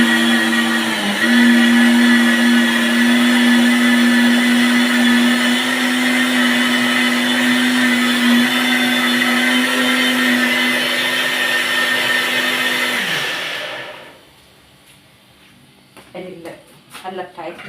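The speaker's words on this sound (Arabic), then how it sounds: "انا هضرب بس في الخلاط وارجع لكم" An electric kitchen blender whirring through cooked lentils for Egyptian lentil soup, a loud, steady high-pitched motor whine for about thirteen seconds that winds down and stops, followed by quieter background sounds and a brief voice.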